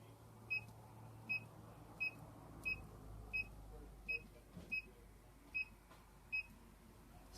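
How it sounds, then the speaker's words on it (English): A small electronic control panel gives short, faint, evenly spaced beeps, about a dozen in a row, while saving a setting, heard against a quiet room background. "You want to make sure you hear that little beep when you save it."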